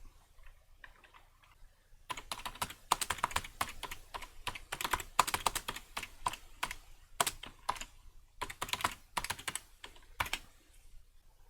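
Someone types in short irregular bursts of crisp key clicks on a computer keyboard. The clicks are close and fairly quiet, with brief pauses between runs, in an otherwise silent room.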